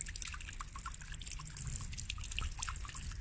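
Mineral water trickles steadily from a spring fountain in Bad Cannstatt, a close, continuous splashing dribble with no voices over it.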